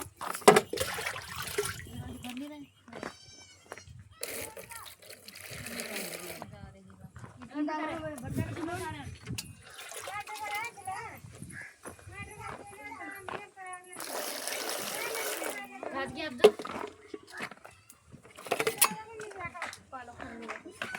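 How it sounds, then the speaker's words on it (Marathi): Water is poured and splashes in bursts, loud at moments, while children and adults talk throughout. "पाणी घालायचं"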